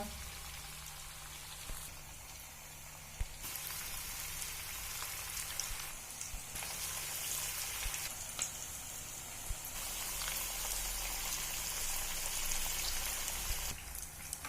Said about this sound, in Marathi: पुढचेही कटलेट आपण तांदूळ पिठीमध्ये घोळवून शॅलो फ्राय करून घेऊया